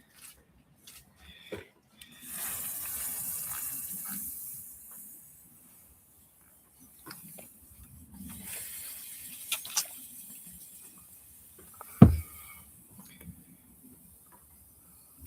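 Hot forged axe steel quenched in water at a forge: a sustained hiss of steam lasting about three seconds, fairly faint, followed by scattered clanks, rustling and a sharp knock.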